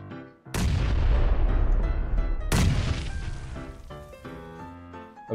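Two heavy grenade blasts in the shooter game PUBG, each a loud booming explosion with a long rumbling tail, spaced about two seconds apart and followed by faint game sounds.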